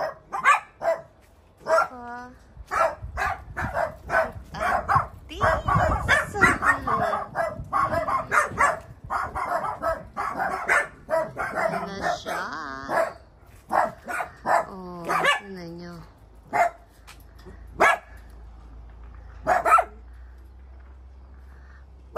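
Several dogs on a farm bark repeatedly in sharp bursts, with yips and a whimper, fairly close, while a person talks over and between the barking.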